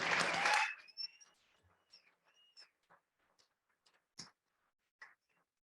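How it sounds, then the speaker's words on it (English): A commencement audience at Life Chiropractic College West applauds loudly in a short burst that cuts off within the first second, leaving faint scattered clicks and chirps. "Can we get one more round of applause for these two?"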